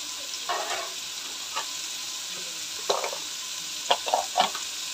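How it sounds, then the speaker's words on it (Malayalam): Sliced garlic, green chilli and ginger sauté in a pan with salt, giving a quiet steady sizzle broken by a few scraping stirs and short rattles, with no voices. "ഇത്തിരി ഉപ്പിട്ട് തന്ന് വഴറ്റിയെടുക്കാം"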